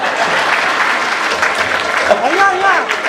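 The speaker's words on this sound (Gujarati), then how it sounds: "તાળીઓ વગાડો." Audience clapping at a community mass-wedding donor felicitation ceremony, steady dense applause throughout with a voice speaking over it near the end.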